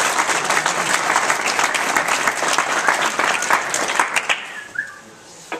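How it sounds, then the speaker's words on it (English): Loud, dense applause from a group at a dinner remembering a school trip, sustained and steady for several seconds before thinning out and fading near the end. "We should all give Mr. Seamon a round of applause"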